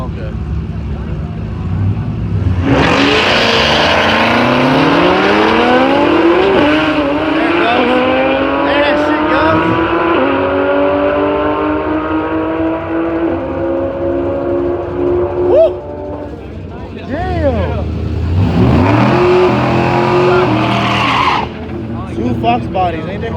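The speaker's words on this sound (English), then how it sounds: "Now, that's a good run. They're both Fox bodies. Old school Mustangs." Two old-school Fox body Ford Mustangs race down a drag strip with loud, rising engine roar as they shift through the gears, another burst of revving near the end, and people talking over it.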